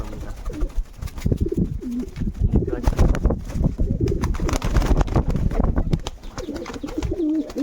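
Pigeons coo repeatedly inside a loft, soft throaty calls close by with fluttering and shuffling, overlapping in an uneven rhythm.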